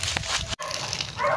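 A dog barks and yips nearby amid outdoor background noise, with a short sharp outburst around a brief gap.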